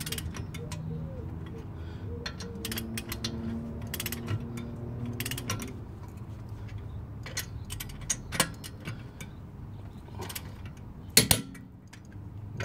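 Allen key tightening wheel adapter bolts in a star pattern on a BMW E30, with soft ratcheting clicks and knocks at close range and a louder clunk near the end.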